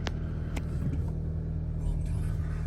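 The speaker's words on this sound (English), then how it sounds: "We'll just start the car so you can see there's no warnings." A 2014 Audi TT 2.0 TFSI S-Tronic Black Edition starting up, a couple of sharp cranking clicks followed by a steady low idle hum, fairly quiet and heard alone.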